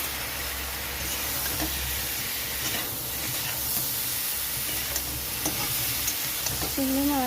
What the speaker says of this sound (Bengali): মশলাটা ভাজাও হয়ে গেছে, গন্ধ বার হয়ে গেছে। ওখানে দিয়ে দিচ্ছি চিংড়ি মাছ।